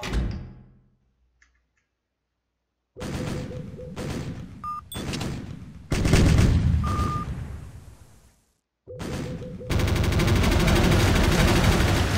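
Naval gunfire in the online warship game Navyfield at a Tokyo harbor battle, repeated heavy booming salvos with rumbling tails, broken by short silent gaps, ending in a sustained noisy roar.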